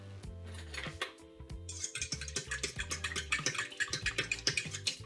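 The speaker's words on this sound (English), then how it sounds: "And we're going to add the equivalent of 2 packets of yeast. Going to give that a stir." A metal spoon stirs yeast into warm water in a bowl, giving rapid, rhythmic clinks and scrapes against the sides, close and clear, with brief quiet gaps between strokes.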